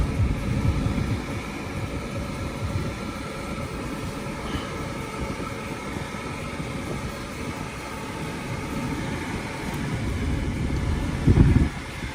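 A car engine runs steadily throughout, a broad low rumble that stays close and fairly even for about twelve seconds, with a brief louder surge near the end as the car pulls away.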